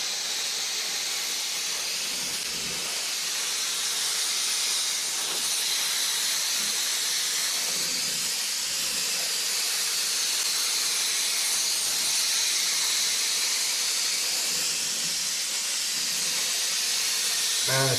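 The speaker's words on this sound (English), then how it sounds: "Let's hit it up with some primer. Got some high build primer." A spray gun lays high build primer onto a car body in a body shop, a steady broadband airy hiss running continuously and loudly for the whole stretch with no talk.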